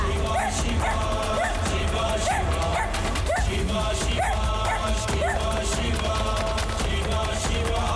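A dog barks and yips repeatedly in an animated cartoon scene, short bright barks spaced roughly half a second apart over a dense, steady musical bed.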